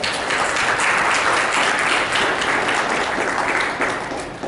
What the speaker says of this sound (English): So let's give them a round of applause now.